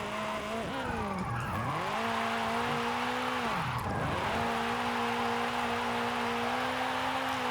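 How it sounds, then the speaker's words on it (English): A small MG car driven in Forza Horizon 5, its engine droning steadily with pitch dipping and rising through gear changes and cornering, under constant tire and road noise. "How has this little MG just become one of my favorite cars to drive in this game?"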